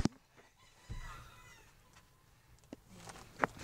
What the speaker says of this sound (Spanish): ahí hay gallos